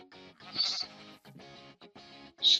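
Sheep bleats from a video game, several short wavering cries in quick succession with brief gaps, close and fairly loud, with no talk over them.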